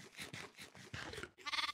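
A sheep bleating in a space-themed block-building game, several wavering bleats in a quick series with brief gaps, the last one brighter and louder, no talk.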